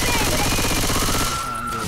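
Dense, rapid gunfire from Left 4 Dead 2 plays continuously and loudly in a co-op zombie shooter, with overlapping bursts filling the whole moment before easing slightly at the end.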